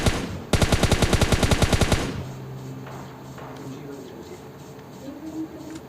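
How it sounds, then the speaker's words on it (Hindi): Rapid automatic rifle fire from an M416 in PUBG Mobile Lite, a loud burst of about twenty evenly spaced shots lasting over a second, then fading to quieter distant game ambience. "आगे फायरिंग हो रही होती है तो मैं आगे देखता हूँ।"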